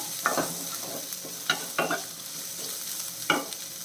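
Shallots sautéing in a pan, a soft continuous sizzle broken by a handful of scraping stirs of a spoon against the pan, close and without talk.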